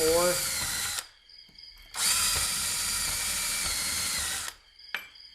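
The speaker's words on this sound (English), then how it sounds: "Go to this unibit. Smaller one will just maybe go down 3 or" A power drill with a unibit step bit cutting holes in a pedal board DC breakout box, heard as two loud close whining bursts separated by a short pause, then a brief final blip.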